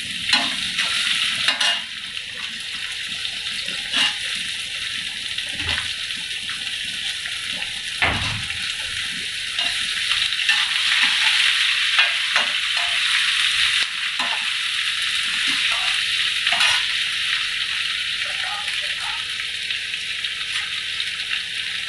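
Pumpkin sabzi vegetables fry in oil seasoned with fenugreek and chili, a steady sizzle broken by repeated scraping stirs of a spoon against the pan at close range.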